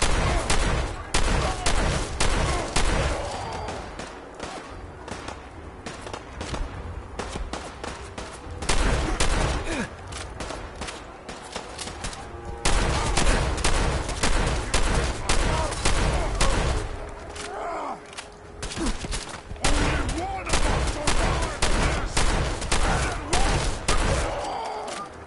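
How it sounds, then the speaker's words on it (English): A combat shotgun fires again and again against super mutants in Fallout 4, each heavy blast crisp and loud, with irregular bursts and short pauses across a long firefight as enemies groan and shout between shots. "Oh, super mutants, okay. Combat shotgun."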